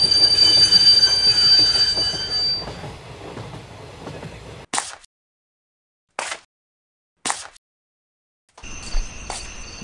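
A train pulls into Sealdah station, its wheels squealing and clattering loudly and close for several seconds, then the sound cuts out and only a few brief bursts of rail noise remain.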